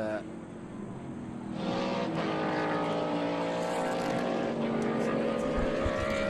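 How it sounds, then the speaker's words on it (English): A Corvette race car's engine rises into a loud, sustained roar as it runs past on the VIR circuit during an SVRA vintage race, with a faint commentator's voice underneath. "And there's that breathless Corvette."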